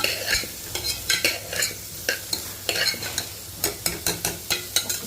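Rice, tomato and bay leaf stir-fried in a pan for a Bengali kichidi offering, with repeated scraping stir strokes in a steady rhythm over a soft sizzle, close and clear.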